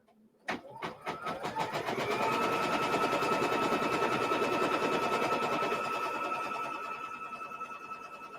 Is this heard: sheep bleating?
no